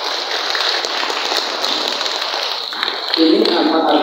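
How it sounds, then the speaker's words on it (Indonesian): Audience clapping at an elementary school graduation ceremony, a dense, steady patter of many hands that carries through the whole stretch and swells slightly near the end. "Tepuk tangan untuk Iqra'."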